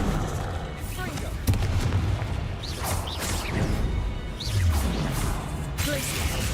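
Confringo fire blast spell in Hogwarts Legacy, several whooshing, crackling blasts and crashes spread across the stretch, layered with game effects and a voice talking over parts of it.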